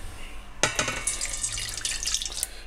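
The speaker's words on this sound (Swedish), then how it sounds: "Är att man häller ner lite degvätska" Batter is poured into a pan, starting abruptly as a close, quiet liquid splashing and trickling that runs steadily for about two seconds with no talk.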